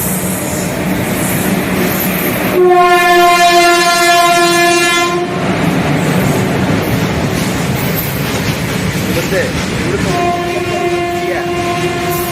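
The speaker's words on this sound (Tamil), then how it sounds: "நிலக்கரி பாரம் சரக்கு ரயில் இது போயிட்டு இருக்குது." A heavy coal-laden freight train hauled by an Erode-shed diesel locomotive in red oxide livery rolls past with loud rumbling and clattering wagons, its horn blaring for a few seconds early on and again near the end.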